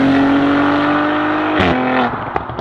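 Engine of an Audi RS5-R ABT, a 510 hp limited-edition car, revving loudly up close: a sustained high rising note that drops sharply, followed by a couple of short sharp blips as the revs fall away.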